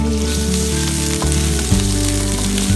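Freshly ground ginger garlic paste sizzling loudly in melted ghee, a close, continuous crackling fry with a few faint clinks and shifts partway through.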